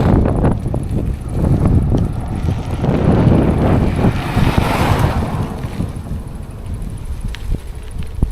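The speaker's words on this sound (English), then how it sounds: "It's kind of like western winds pushing from the side." Strong side wind from the west buffets the microphone while biking, a loud continuous low rumble with gusts swelling and easing throughout, no talking.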